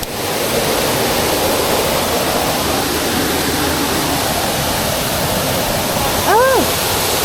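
Waterfall on Mt. Tanawan in Bulacan, a loud, steady close-up roar of falling water throughout, with a brief sharp whistle-like sound near the end.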